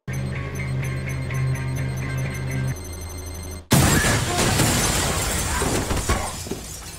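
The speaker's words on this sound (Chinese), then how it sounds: "防弹玻璃瞬间碎裂一地" Bulletproof glass in an old house shatters under a swarm of attacking drones, a sudden loud burst of breaking glass and crashing debris that follows a steady ticking, tonal hum and then keeps rumbling.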